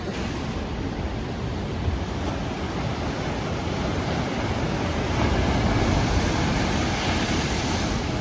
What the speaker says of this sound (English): The ocean is angry.